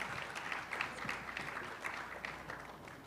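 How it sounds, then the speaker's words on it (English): A conference audience at a future-of-work event in Quezon City applauds steadily, a soft, even patter of many hands heard from a distance for a few seconds. "A round of applause"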